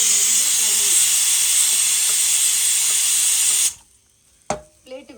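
A pressure cooker whistle lets off steam in a loud, steady hiss for a few seconds, then cuts off abruptly, leaving a couple of brief knocks in the quiet.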